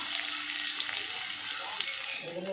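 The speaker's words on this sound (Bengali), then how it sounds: "এবারে ওই তেলের ওপরে পেঁয়াজ কুচনো দিয়ে দিচ্ছি।" Chopped onion hits hot oil and fries with a steady, bright crackling sizzle that holds throughout, close by and fairly loud, with a light stir near the end.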